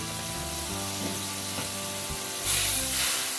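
Salsa pasta sauce with tomato ketchup being mixed in a pan gives a steady close sizzle with soft stirring scrapes, growing louder and brighter near the end.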